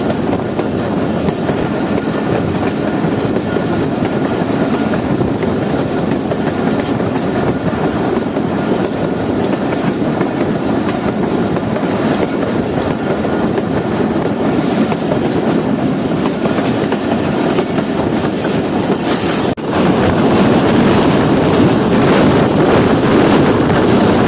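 The Jaffer Express, hauled by three engines on the journey toward Quetta, rolls along with a continuous rumbling roar and rhythmic wheel clatter, buffeted by wind noise, with a sharp jolt near the end.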